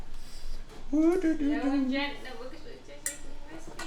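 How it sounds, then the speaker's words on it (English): A whisk stirs all-purpose flour into pancake batter for oven-puffed pancakes, with light metallic clinks and scraping against the bowl under steady close-up talk. "Whisking."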